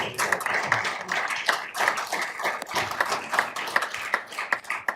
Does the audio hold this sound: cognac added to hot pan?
no